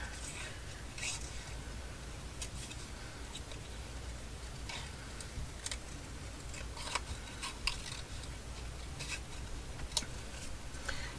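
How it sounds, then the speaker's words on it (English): Paper being fussy cut with scissors, a run of quiet, irregular crisp snips and clicks close by against a soft background. "let's just fussy cut this out real quick here"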